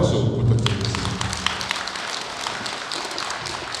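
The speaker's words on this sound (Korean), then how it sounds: "두 상의 신혼부부를 위해서 축하의 박수 부탁드리겠습니다." Scattered applause at a Buddhist Sunday service honoring a newly married couple, a few distinct claps after a voice fades out, then light, uneven clapping.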